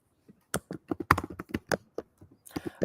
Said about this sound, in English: You've got a very loud keyboard.